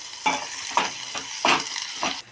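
Coriander and dal fry in a pan, giving a steady sizzle broken by four stirring scrapes at regular intervals.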